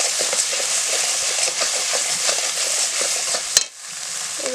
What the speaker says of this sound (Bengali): এই মশলার সঙ্গে ভেজে নিচ্ছি